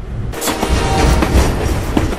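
A train rolls along the rails in The Expendables 2 video game, a loud, close rumble with rhythmic clickety-clack thumps after a brief quieter opening.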